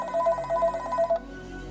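A telephone rings with an incoming call, a quick pulsing electronic trill repeating for about a second before cutting off, close and clear with no talk over it.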